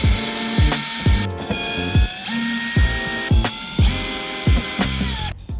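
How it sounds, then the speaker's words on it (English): A cordless driver removes T25 Torx screws from a VW Crafter headlight in repeated short whirring bursts with ratcheting clicks, close and clear, with about six bursts in quick succession. "And then we've got 5 lots of T25s to undo down here."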